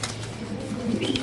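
Pigeons cooing at a pigeon farm, soft low throaty coos rising near the end over a busy background of other birds, close by and with no talking.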